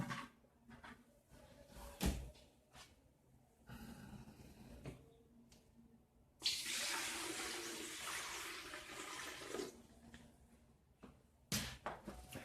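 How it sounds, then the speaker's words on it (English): Water pours into the tank of a Xiaomi Smartmi 3.5L ultrasonic humidifier, a steady splashing rush lasting several seconds, with softer handling clunks and a brief splash before and after. "First, let's put some water into the pot."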